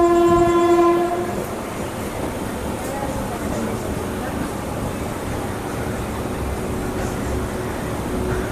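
A Jan Shatabdi express train skipping Pratap Nagar station sounds a loud horn blast at the start, then rolls on with a steady rumble and faint rhythmic clatter heard from on board.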